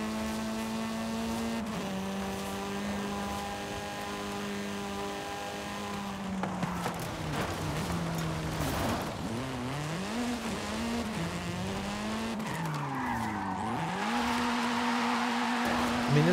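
Race car in Forza Horizon, an engine whining steadily through gear changes and rising and falling revs, with tire squeal through the turns, loud and continuous on its own without talk.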